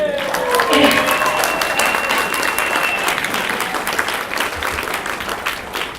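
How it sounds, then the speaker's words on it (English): Loud, sustained audience applause fills the hall, dense clapping with a few whoops or whistles early on, holding steady for several seconds. "So why don't you make that applause louder?"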